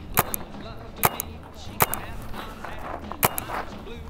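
Several sharp, sudden cracks from shots fired at a person during a prank ring out at irregular intervals, about four distinct close reports over a background of outdoor noise and muffled voices.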